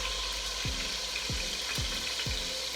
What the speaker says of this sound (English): I'm going to add the chicken